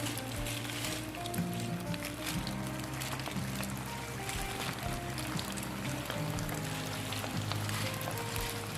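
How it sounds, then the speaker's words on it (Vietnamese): Balls of mushroom-filled sticky rice fry in hot oil in a pan, giving a steady, close crackling sizzle with occasional louder pops and bubbling throughout. "Mình cứ bỏ vào và mình chiên vàng cho nó mình trở nha."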